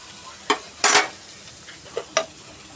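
Potato, beans and cauliflower stems frying in oil, a faint sizzle beneath a few sharp stirring scrapes and clinks of a spatula against the pan, close by.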